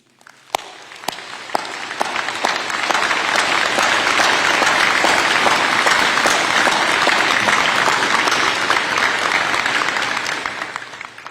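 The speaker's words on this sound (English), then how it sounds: "I'd like the entire room to join me in a big round of applause for the instructors." Sustained audience applause at a military platoon graduation ceremony, honoring the instructors, swelling after a few scattered claps into dense, steady clapping from a large crowd in a hall that holds for about ten seconds before tapering.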